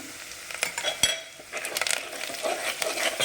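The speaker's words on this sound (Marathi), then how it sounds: "छान भाजून घ्यायला तेलात चटणी आणि आपण जे वाटण करून घेतलेलं आहे ते टाकूया" Chutney and garlic frying in hot oil for a tempering in katachi amti, a crackling sizzle with spoon clinks and stirring knocks against the pan, close and moderately loud.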